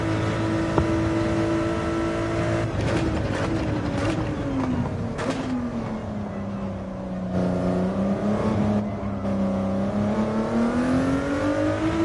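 A racing game car engine drones steadily on an outlap at Abu Dhabi, its pitch sliding down and back up through gear changes and throttle shifts, loud and continuous with no talk.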